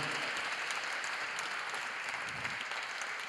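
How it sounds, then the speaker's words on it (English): A crowd claps at a live storytelling event about the justice system, a continuous wash of applause that stays soft and distant throughout without any talk over it. "Can we give them a round of applause?"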